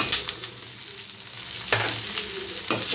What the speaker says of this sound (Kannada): ಇದೆಲ್ಲ ಚೆನ್ನಾಗಿ ಸ್ವಲ್ಪ ಫ್ರೈ ಆಗಬೇಕು